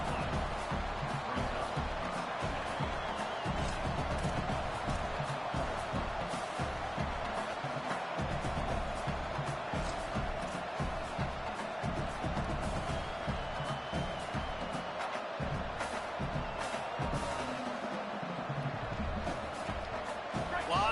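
A stadium crowd in a college football video game roars steadily throughout, a dense loud wash of cheering with a commentator talking over it.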